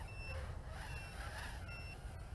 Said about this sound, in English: now there's a constant beeping going on